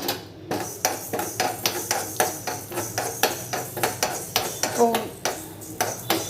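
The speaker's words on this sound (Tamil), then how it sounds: "இப்போது கடுகை நான் வறுத்துக்கிறேன்" Mustard seeds roasting in a pan for baby mango pickle, with rapid sharp pops and rattling ticks repeating in a quick, busy rhythm close by.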